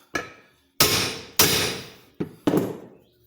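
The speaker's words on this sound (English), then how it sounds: "So I gotta kind of figure out where to smack which flywheel to get it into place." Five sharp metallic hammer smacks on the flywheel of a Gravely L crank, struck at an uneven pace with brief ringing decay after each blow, close and loud with no talk.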